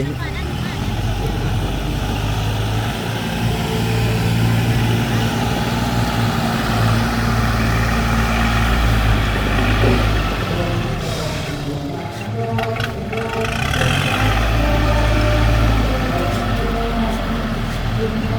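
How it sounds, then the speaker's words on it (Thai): A walking tractor engine runs with a steady, loud mechanical drone and a brief dip in the middle, while voices talk over it throughout. "ครับเบิ่งรถไถน้ำกันครับพี่น้องเบิ่งรถไถน้ำกันครับ"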